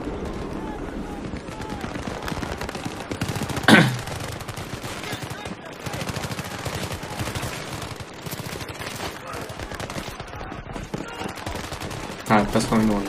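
Sustained automatic gunfire in the Battlefield 3 campaign, dense rattling bursts with two sharp louder shots standing out, continuing through most of the stretch.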